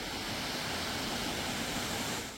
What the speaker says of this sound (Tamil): அருவிகள் விழும் சத்தம்,